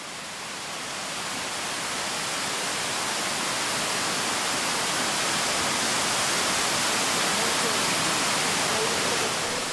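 Bulil Falls on Jirisan mountain sends down a heavy, unbroken roar of falling water that swells slightly at the start, then holds loud and steady.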